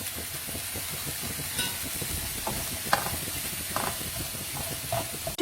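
Mushrooms cooking in a pan over a slow flame, a soft continuous sizzle and hiss with occasional scrapes and taps of stirring.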